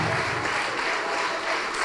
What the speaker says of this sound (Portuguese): Dê o melhor para Deus, a melhor salva de palmas.